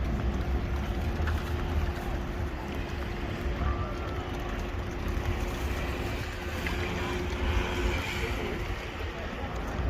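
Boat engines and water noise rumble steadily outdoors on the Norfolk Broads, with a low hum and wind-like wash running throughout.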